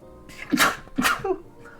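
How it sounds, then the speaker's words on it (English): Two quick sneezes in a row from a character in the video game Metaphor: ReFantazio, set off by hero's incense, close and fairly soft. "More heroes' incense. Oh, I'm gonna sneeze."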